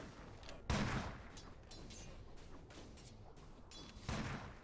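Snapfire's gunshot attacks in Dota 2 pop in a few sharp bursts, the louder shots near the start and end, with faint game sounds between and no talking.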